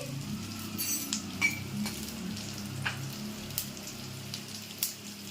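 Panch phoron spices crackle and sizzle in hot oil beside fried potatoes, a steady frying hiss broken by scattered sharp pops, with no voices.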